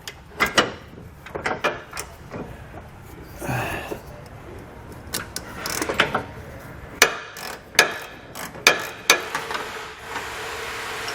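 Ratchet turning a 30mm socket on a large tow hook nut behind the frame of a 2020 Jeep Cherokee, giving irregular close clicks and clunks with short pauses.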